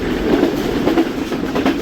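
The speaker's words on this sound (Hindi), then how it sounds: "ट्रेन पास हो रही है चीचावतरी रेलवे स्टेशन" A Karachi Express passenger train rolls through Chichawatni railway station in Pakistan, giving a steady, loud rumble of wagons with a faint clickety-clack of wheels over the rails and no voices.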